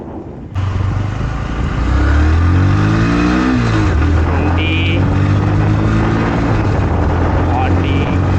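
Bajaj NS 125 motorcycle, a 2024 BS7 model, being ridden, its engine revving up through rising and falling pitch sweeps as it accelerates and shifts, loud and close with steady wind noise throughout.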